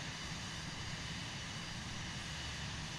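An airplane engine in Microsoft Flight Simulator 2020 runs near full throttle as a steady, dense, even roar. It stays level throughout with no talk.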